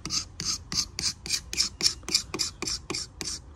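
A utility knife scraping old varnish off a wooden hammer handle in about thirteen quick, evenly spaced rasping strokes, close and crisp, with no voices.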